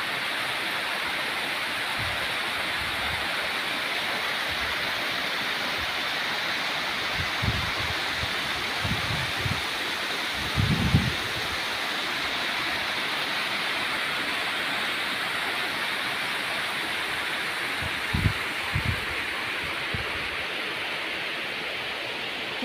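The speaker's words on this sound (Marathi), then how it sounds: "पूर्ण बंधावरनं पाणी पडतंय।" Water pours over a check dam on a farm, a steady broad rushing roar that holds evenly throughout, with a few faint low thumps here and there.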